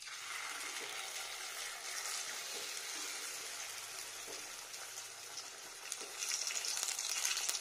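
Luchi deep-frying in hot oil gives a steady, close bubbling sizzle, with occasional soft taps and scrapes of a metal spatula turning the bread, the frying swelling louder near the end.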